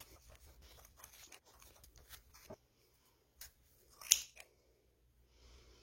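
Quiet scissors snip through yarn a few times while making a pompom, with soft rustling and a sharp cut near the end, close by and alone.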